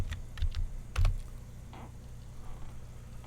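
Keys on a computer keyboard are tapped to enter a password, with a few close, sharp clicks in quick clusters and then quiet, and no talking.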